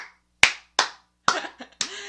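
Sharp hand claps at a children's party, four or five single claps spaced apart with short silences between, some followed by faint room noise.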